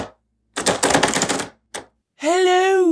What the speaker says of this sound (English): I will find myself waking up to a loud rattling sound